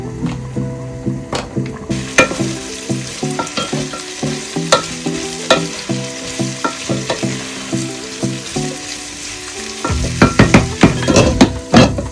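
Chopped onions searing in hot white oil in a pan, a loud steady sizzle broken by repeated scraping stirs of a utensil against the pan, with no talking.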